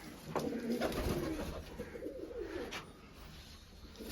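Pigeons cooing close by, soft throaty rolling calls repeating over a faint background hum.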